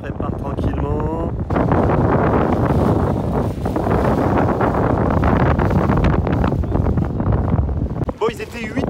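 Strong wind buffets the microphone in a loud, continuous roar at a kitesurfing spot, with brief voices at the start and end.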